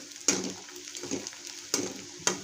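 Peanuts fry and roast in a pan, giving a soft continuous sizzle broken by several sharp stirring scrapes at irregular intervals.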